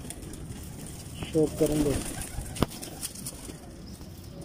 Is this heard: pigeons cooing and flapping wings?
yes